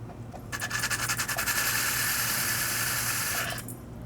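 A rotary cone burr grinds at a hole in a beach pebble, a steady high-pitched abrasive whine that starts after a brief pause and holds for about three seconds before cutting off, close and alone with no talk.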